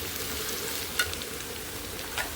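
Onion pieces fry with partly cooked bitter gourd in oil in a pan, giving a quiet, even sizzle throughout with two small crackles, and no voices.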